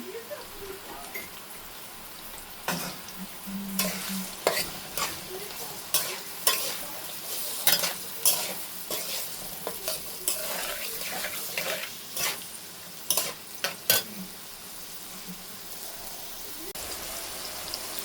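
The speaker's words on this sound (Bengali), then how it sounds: "এই যে এখন পেঁয়াজটা একটু নরম হয়ে আসছে" Onion softening as it fries in a pan, a steady sizzle punctuated by frequent sharp scraping and tapping strokes of a spoon stirring against the pan, close up with no talk.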